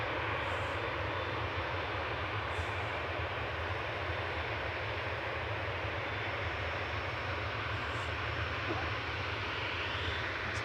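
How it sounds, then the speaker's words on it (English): An Air Baltic Airbus A220 arriving from Zurich at Manchester Airport produces a steady, broad engine roar throughout, moderately distant and constant without clear peaks. "Next to arrive is Air Baltic coming in from Zurich, Airbus A220"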